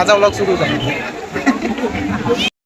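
Crowd bustle on Juhu beach in Mumbai: a dense, loud babble of many overlapping voices and chatter, close and continuous, with no single voice standing out.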